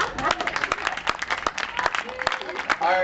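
Scattered applause from a stand-up comedy audience, a steady patter of claps with sharper individual hand claps standing out, carrying on at moderate loudness without a clear peak.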